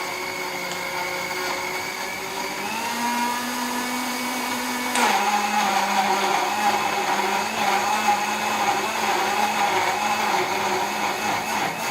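Blender whirring steadily as it purees tomatoes with a little water for bolognese sauce, a loud, continuous motor whine that shifts pitch slightly partway through as the blades catch and smooth out.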